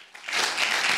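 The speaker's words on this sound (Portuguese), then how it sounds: "Gente, vamos aplaudir o Thompson." Applause for a guest physics professor starts abruptly and swells into a dense wash of clapping that lasts for under a second.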